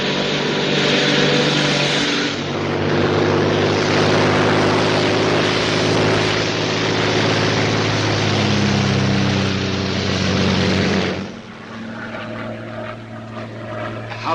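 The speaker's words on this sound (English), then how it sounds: "a Royal Air Force plane is waiting for us at a secret landing place" Royal Air Force propeller plane in flight, a loud, steady engine drone with a rich low hum that holds throughout and eases slightly near the end.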